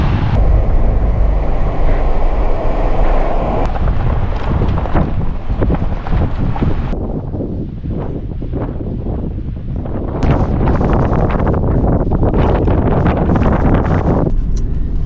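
Strong wind buffeting the microphone on the Pacific coast, a loud continuous roaring rush with gusty swells and dips, no voices.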